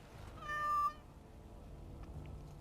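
A cat in Dragon Age: Awakening gives a single short, clear meow, near and alone over a quiet background hum.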